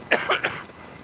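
Three quick coughs from one person in close succession, sharp and near, then quiet room tone.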